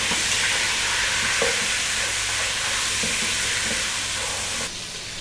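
Beef bone soup simmering over medium heat in a pot with dried chili, salt, pepper and seeds, a steady bubbling sizzle with faint stirring clinks throughout, and no voices.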